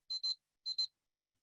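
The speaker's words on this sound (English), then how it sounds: "oh, my timer" A timer alarm goes off in two quick pairs of shrill electronic beeps, fairly faint and alone, with silence after.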